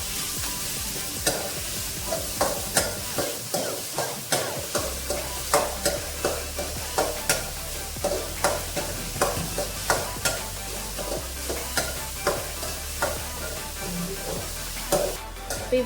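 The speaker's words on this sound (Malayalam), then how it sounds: "ഇവിടെ ഇപ്പോൾ സവാള പച്ചമുളക് ഇട്ടു." Chopped onion and green chili frying in hot oil, a spatula scraping the pan in a steady, rhythmic stroke about twice a second over a continuous sizzle and a low background hum.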